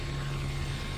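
Aircraft engines drone in Call of Duty: Black Ops 3, a steady low hum with a constant tonal whine, unbroken across the brief moment.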